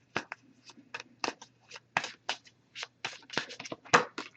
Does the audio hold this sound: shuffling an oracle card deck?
yes